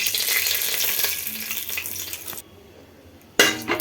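Cumin seeds and a bay leaf sizzle in hot oil for a tomato bath. A crackling hiss fades to near quiet, then bursts loud again briefly at the end.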